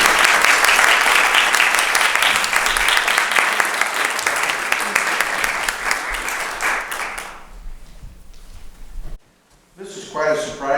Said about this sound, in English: let's give a very warm round of applause to Robert Barbera